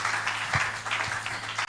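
A church congregation applauding during a French-language worship service, a dense, steady wash of clapping at moderate level for under two seconds, with a low hum and occasional thumps underneath.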